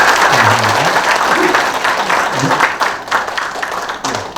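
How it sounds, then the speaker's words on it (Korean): Audience applauding the mayor at a museum concert panel in Pocheon, steady dense clapping throughout, with a voice briefly audible over it. "시장님께도 박수 한번 드리면 좋겠습니다"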